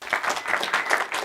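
Audience applause at a church service, a brief burst of dense, steady clapping from a crowd, fairly loud and close.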